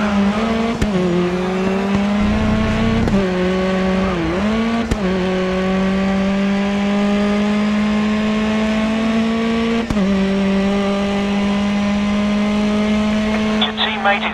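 A Ford Focus ST touring car in the video game GRID Autosport races with the pack, its engine droning loud and steady with pitch dips at gear shifts and brief clicks, while a commentator's voice talks over it.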